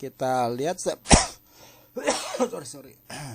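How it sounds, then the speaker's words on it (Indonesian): A person speaks, then lets out a single sharp cough, and resumes talking afterward. "maaf lagi batuk."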